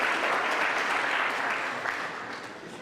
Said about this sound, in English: I think we should give them applause.